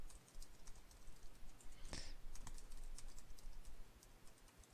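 A git config command is typed on a computer keyboard as a quiet, irregular patter of key clicks, with one brighter tap standing out, over faint background hiss.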